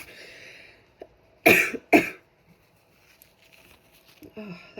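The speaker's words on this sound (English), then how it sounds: "Oh, that was like almost a sneeze, but like a cough." Two sharp, close coughs about half a second apart, each bursting out like a stifled sneeze from someone with a burning nasal sensation, followed by quiet breathing and faint rustling.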